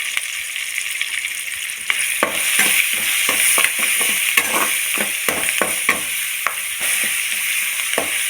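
Tomato with cumin seeds, curry leaves, turmeric and asafoetida sautés in a hot pan, a constant bright sizzle punctuated by repeated scraping strokes of a spoon stirring, loud and close with no voices.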